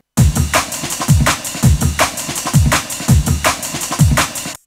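A drum and bass beat programmed on a Korg Volca Sample from factory samples, with fast breakbeat drums and punchy kicks and snares looping steadily, loud and alone.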